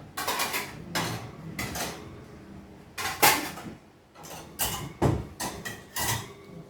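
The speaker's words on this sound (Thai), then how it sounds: "เดี๋ยวป้าเปซี่ยกจานกับช้อนออกไป" Plates and spoons clatter and clink as they are carried out for a big outdoor cooking session, several bursts of ceramic and metal knocking together at close range, with short pauses between them.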